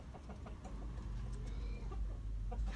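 Chickens at a home poultry farm, including a fighting-breed rooster and a breeding hen, cluck faintly under a loud, steady rumble of background noise.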